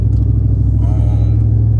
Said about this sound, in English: I have an exhaust leak, and it's right there by my O2 sensor